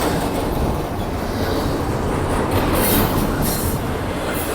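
A Union Pacific eastbound intermodal stack train rolls past a station on Richmond Street, a steady, loud rumble of wagons and rails that holds evenly throughout with faint wheel clatter and no talking.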